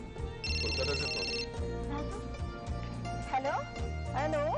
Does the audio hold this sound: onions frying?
no